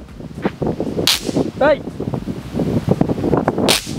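Diwali firecrackers are set off during a cracker-testing visit to a fireworks shop, giving two or three sharp, loud cracks amid busy talking and outdoor background noise.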